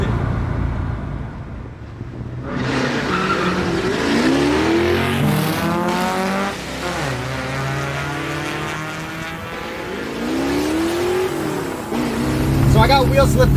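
Drag-race launch of a cheap Mustang against a Civic over a quarter mile: an engine roars and revs loudly with sweeping pitch as the tires slip, with voices talking over the noise throughout.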